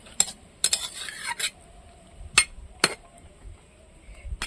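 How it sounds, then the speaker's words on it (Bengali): A utensil stirs fish curry with cumin paste in a pan, giving scattered clinks and scrapes against the metal, several sharp taps among softer stirring, faint and close. "জিরে বাটা দিয়েছি, এবার ঘেঁটে দেবো, একটু নাড়াচাড়া দিয়ে নেবো।"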